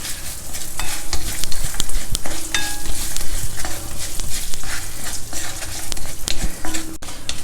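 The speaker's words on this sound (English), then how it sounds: "Now we will fry all these ingredients." Dals, dry red chilies and hing crystals fried in a pan with stirring, a loud, dense crackling sizzle and scraping spatula, close up and without voices.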